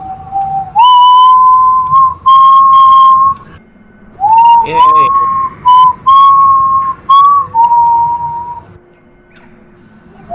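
Voice whistling to imitate wind blowing through hills and trees, a series of sustained wavering tones rising and sliding in pitch, loud and close, with a brief spoken exclamation partway through.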